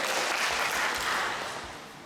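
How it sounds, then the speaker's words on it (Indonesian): Applause from a crowd at a community organization's leadership election gathering, steady broadband clapping held throughout and fading slightly toward the end, with no voices over it. "Tepuk tangan untuk sektor 2"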